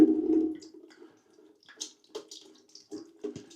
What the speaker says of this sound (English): take this nut off here, and you're going to get water running out of there